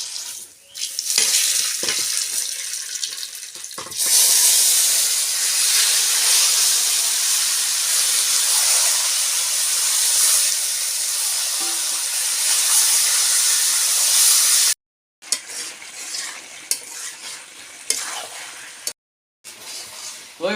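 Whole cumin seeds drop into hot oil for tempering, setting off a loud, bright hiss that surges and then runs as a sustained close fry, later broken by short gaps and quieter crackles.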